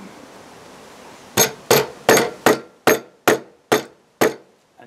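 A wooden mallet hits a chisel eight times in a steady rhythm, splitting a piece of pine. The knocks are loud, close and sharp, and a quiet background comes before the first blow.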